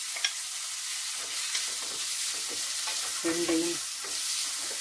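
Onion and green chilies frying in oil for Tamil-style scrambled eggs with tomato, a close, steady sizzle with stirring scrapes and a short clattering rattle partway through; a single brief word is spoken.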